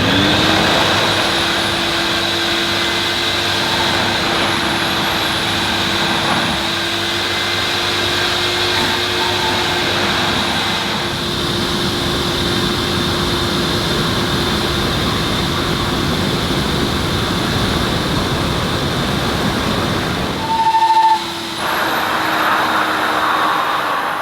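A Vax V1100 carpet cleaner running, a loud steady whine and roar that holds for over twenty seconds, briefly cutting out near the end before resuming.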